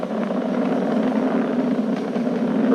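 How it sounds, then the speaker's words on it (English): Falcon 9 rocket engines roar steadily during ascent on an astronaut launch with Crew Dragon, throttled down ahead of maximum dynamic pressure, a dense continuous rumble heard from a distance with no talk over it. "We're throttling down to get ready for the period of maximum dynamic pressure."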